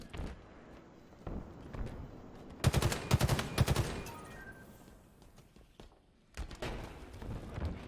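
Bursts of gunfire in a first-person shooter match, with a dense rapid volley in the middle followed by scattered shots and another burst near the end, set against game ambience.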